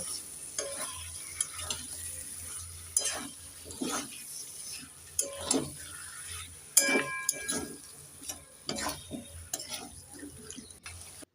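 Chicken pieces stirred in a pan of frying spice paste for a cabbage chicken curry, with repeated scraping strokes over a steady sizzle, close and moderately loud, no talking.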